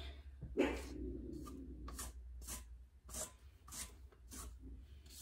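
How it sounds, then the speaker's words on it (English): Spatula scraping tres leches cake batter from the sides of a mixing bowl into a pan, a series of soft rasping strokes, quiet and close, with no talking. "You want to scrape the sides of your bowl"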